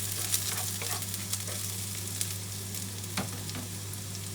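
Beef frying with ginger in a hot pan gives a steady, close sizzle with occasional light stirring clicks and pops, heard alone without talk.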